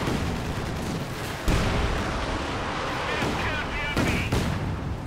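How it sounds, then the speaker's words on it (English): Artillery strike in the World War II strategy game Company of Heroes 2: a dense, continuous rumble of booming shell impacts and gunfire, with sharper blasts near 1.5 and 4 seconds standing out from the battle din. "They do, like, another artillery strike."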